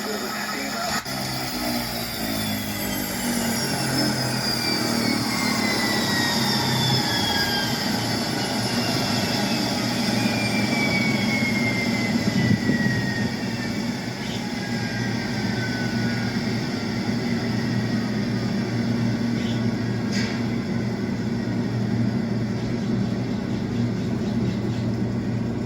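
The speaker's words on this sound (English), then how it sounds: "Now I'm going to shut the engine off." A custom AT-802 Fireboss airplane engine shuts down. Several whining tones slide steadily downward as the engine spools down over a constant, loud mechanical rumble that lasts the whole clip.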